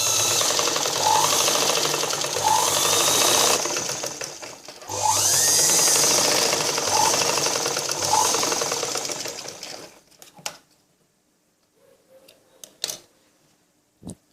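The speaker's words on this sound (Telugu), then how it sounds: "మనం దీని వారి నుంచే స్టిచ్చింగ్ చేసుకోవాలి." A sewing machine stitching a blouse, a loud, close, steady whirring run that pauses briefly, resumes, then winds down into a few faint clicks and handling noises.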